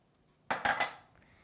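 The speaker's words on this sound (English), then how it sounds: "then you're gonna put in the spinach." Spinach dropping into a casserole dish of rice, a short cluster of three quick clattering knocks against the dish, close and then fading, with no talking.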